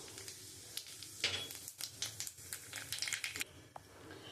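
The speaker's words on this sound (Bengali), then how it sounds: "আমার তেলটা গরম হয়ে গেছে, এবার আমি একটু কালো জিরে দিয়ে দেবো" Nigella seeds hit hot oil in a pan for okra with poppy seed paste, giving a dense, close crackling sizzle with scattered sharp pops throughout.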